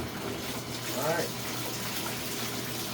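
Water runs from a tap into a tub to soak parts from a Bissell PowerForce 3537 vacuum, a steady close rushing fill that continues evenly throughout.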